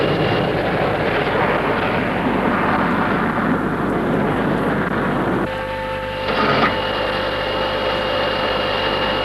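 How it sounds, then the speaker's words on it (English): Aircraft landing gear retracting just after takeoff, heard from the flight deck: a loud, steady engine and cabin roar shifts partway through to a humming whine, with a brief thump as the gear comes up. "Gear coming up."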